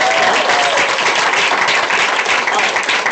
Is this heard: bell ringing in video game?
no